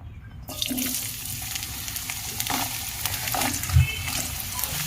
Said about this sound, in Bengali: গাজরটাকে প্রথমত আমি হালকা একটু ভেজে নেব